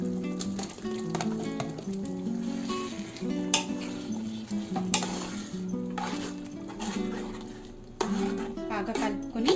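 Chicken stirred in a pot for Ambur chicken biryani gives soft scraping and clinking of a spoon against metal over a faint sizzle, with a voice talking throughout.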